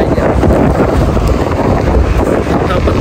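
Strong outdoor wind buffeting a microphone, a loud continuous rumbling roar with gusty fluctuations throughout.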